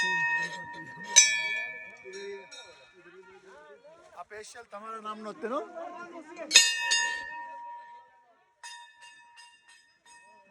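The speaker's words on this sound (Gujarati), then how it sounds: "આ તમારા નામનો ઘંટ વગાડ" A metal temple bell at the Ganesh cave in Mana village is struck three times, each clang ringing out and slowly fading, while a person speaks between the strikes.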